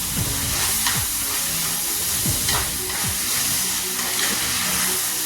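Raw plantain pieces for a curry being sautéed in a pan: a continuous close hiss of frying runs throughout, with a few soft scraping stir strokes spaced across it.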